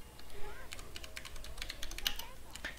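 Quick, light clicks and taps of typing on a computer keyboard come in irregular bursts at close range, with faint background noise and muffled voice sounds mixed in.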